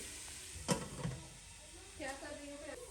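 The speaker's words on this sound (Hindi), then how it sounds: "प्याज को मैंने फ्राई होने के लिए रख दिया है, उसको गोल्डन होने तक मैं फ्राई करूँगी।" Onions for biryani fry in a pot with a low, faint sizzle and a couple of soft stirring knocks; a voice briefly speaks over it near the end.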